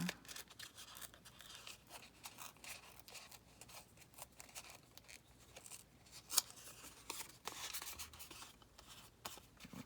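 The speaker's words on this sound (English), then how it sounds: "I'm just going to rip a little here." Faint, scratchy tearing of paper in short irregular rips, close by and quiet, with one sharper snap partway through.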